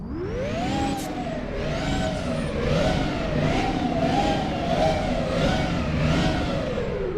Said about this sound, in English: Put this thing in the neutral and let's rev away.